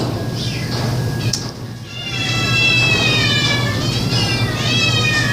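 Several cats meowing in a rescue shelter's cat room, drawn-out wavering cries rising and falling close by over a steady low hum, with a brief lull before the yowling swells again.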